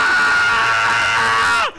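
A voice imitates a screaming chihuahua with one sustained, loud, harsh shriek close up, held steady for over a second before cutting off abruptly.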